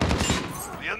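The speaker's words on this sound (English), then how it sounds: "His shotgun works, apparently." Shotgun fire in Call of Duty: Modern Warfare, a burst of close loud blasts in the first half second that fades into ringing game noise.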